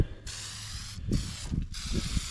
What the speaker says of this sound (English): we're just gonna spray what we can on chains